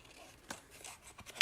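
Scissors cutting through paper card stock in a few soft, sparse snips, close and quiet, ending with one sharper snip, no talking.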